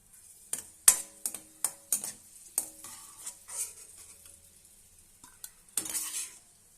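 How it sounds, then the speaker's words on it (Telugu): Raisins frying in a pan for bread halwa, with a run of sharp utensil clinks and scrapes from stirring over a faint, patchy sizzle, close and with no talking. "ఇప్పుడు కిస్మిస్ వేసుకుందాం అన్నీ వేగిపోయాక పక్క తీసుకుందాం"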